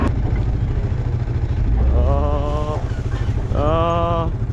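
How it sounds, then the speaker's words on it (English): A four-wheeler ATV engine drives along nearby, a steady low rumble throughout, with two brief tonal calls rising over it partway through. "I'm going to get behind them with this four-wheeler and just pick up the stragglers"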